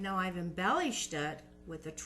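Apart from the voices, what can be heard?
No everyday noises stand out.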